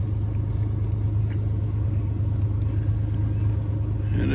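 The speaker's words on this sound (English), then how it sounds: "I know the truck's running." Truck engine left running at dusk, a steady low idling rumble close by, continuous and even throughout with no revving and no talk.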